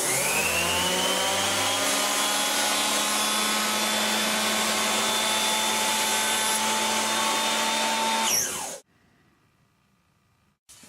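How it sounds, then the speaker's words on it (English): A jointer cuts along the edge of a wood board held against the fence, giving a loud, steady whirring machine roar with a high whine that runs for over eight seconds, then stops abruptly into quiet. "we're back to the jointer to get a straight edge here that's at 90 degrees to those surfaces"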